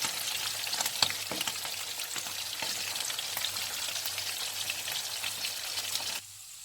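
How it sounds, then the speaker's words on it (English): Steady crackling and sizzling of chicken frying in hot oil, with occasional sharper pops, continuous and fairly close before fading slightly at the end. "I'll go ahead to fry it."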